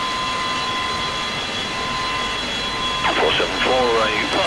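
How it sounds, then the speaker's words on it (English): Boeing 727 flight simulator engine start: a steady, loud whining jet roar with a constant high tone throughout, joined near the end by overlapping radio-style voice chatter. "Start switch engaged. Engine 2."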